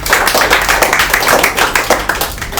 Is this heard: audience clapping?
yes